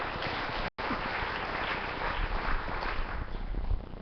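A religious gathering's audience claps continuously, a dense, even wash of applause that drops out for a split second near the start and then carries on at steady strength.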